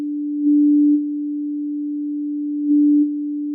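A pure sine wave tone synthesized in Pure Data, one steady unbroken low pitch that holds throughout, swelling slightly louder twice for about half a second each, with no voices.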